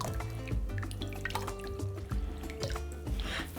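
Close, quiet drips of water fall from wet hands in an uneven patter in a kitchen, with a low hum beneath and no talking.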